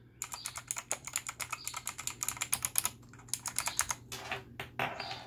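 Numpad keys on a SteelSeries Apex 5 keyboard pressed in a quick irregular run of close, crisp clacks, with brief pauses and a couple of faster bursts near the end.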